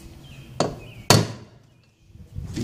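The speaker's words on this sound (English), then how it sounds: "Take my transfer punch." Two sharp metallic taps of a transfer punch a half second apart, close and crisp, then quiet, while fitting an aluminium cover over an aircraft wing tank.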